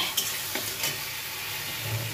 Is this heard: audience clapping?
no